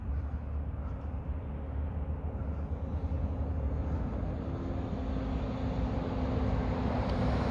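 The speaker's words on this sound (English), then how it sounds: "You got a truck coming." A truck approaches outdoors on a calm, cold, sunny day, its low, steady rumble building slowly from a distance beneath faint background noise.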